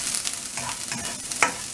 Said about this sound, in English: Now add in onion. And saute this onion till it turns little golden in color.